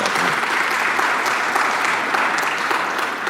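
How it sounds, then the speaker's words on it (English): An audience at a care economy conference in Canada breaks into steady, dense applause that fills the room evenly throughout, with no voices on top. "Really, yes, round of applause, please."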